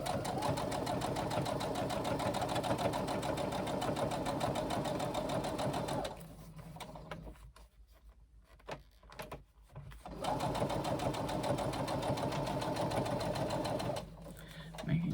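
A sewing machine runs a 3/8 inch seam up the side of a laptop bag pocket, whirring in a fast, steady buzz for about six seconds. It stops for a quiet pause, then stitches again in a second continuous run.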